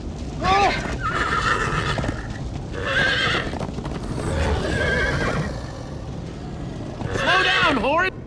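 Horses in the video game Minecraft: Story Mode neigh and whinny repeatedly over steady clip-clop hooves, with game music and rumbling movement filling the background; loud and close, with a final burst of whinnies near the end.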